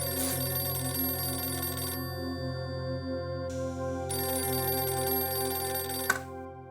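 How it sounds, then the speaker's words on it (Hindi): A telephone rings indoors with a steady electronic ringtone, looping through several bursts with a short gap, close and loud, no voices over it. "फोन आ रहा है किसी का"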